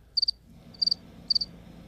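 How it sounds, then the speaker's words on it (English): Cricket chirping sound effect: three short trilled bursts evenly spaced about half a second apart, clear and bright over a quiet background. "There was a cricket."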